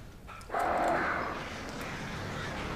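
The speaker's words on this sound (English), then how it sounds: "Birds." Crows caw in the video game Alan Wake, a rough harsh call rising out of a steady ambient game background and trailing off, with no talk over it.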